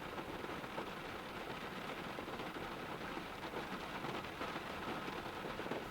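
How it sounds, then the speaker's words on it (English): Steady rain falls outdoors, a dense, even hiss of drops that stays constant throughout with no pauses or voices. "Unfortunately, it's still raining, so I can't paint"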